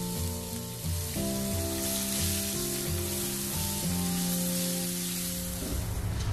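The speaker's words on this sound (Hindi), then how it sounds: "जीरा ब्राउन हो गया है, प्याज को डालेंगे और अच्छा गोल्डन ब्राउन होने तक भूनेंगे।" Onions hit hot oil with browned cumin in a pan, giving a loud, continuous close sizzle with a dense crackle that runs evenly throughout, no speech.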